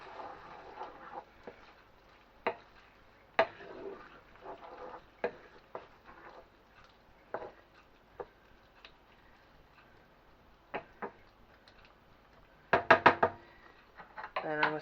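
Grated cheddar being stirred into a one-pot vegetable pasta, with scattered knocks and scrapes of a spoon against the pot and a quick cluster of taps toward the end, close by in a quiet kitchen between stretches of talk.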